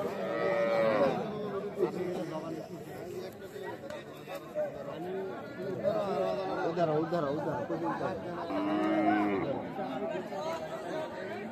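Cows and calves low repeatedly at a busy cattle market, drawn-out moos rising over a constant murmur of crowd chatter, with people talking nearby.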